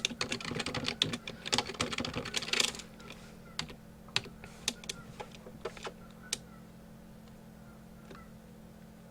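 Typing on a computer keyboard while entering class login details: a quick dense burst of clicks at first, then slower scattered single keystrokes, close and fairly quiet with no talking.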